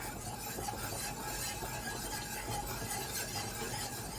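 A spoon stirs through a pot of beef stew with Worcestershire sauce, giving a steady wet scraping and squelching churn that runs continuously and close up.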